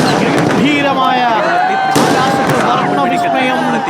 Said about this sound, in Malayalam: വൈവിധ്യങ്ങളും ഒരുപാട് സസ്പെൻസുമുള്ള വെടിക്കെട്ടിന് തൊട്ടുമുമ്പായുള്ള സാമ്പിൾ വെടിക്കെട്ടാണ് ഇപ്പോൾ പ്രേക്ഷകർ കണ്ടുകൊണ്ടിരിക്കുന്നത്.